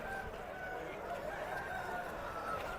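Chickens cluck and a rooster crows over a steady murmur of a busy outdoor poultry market crowd at Piler, with the birds fairly close.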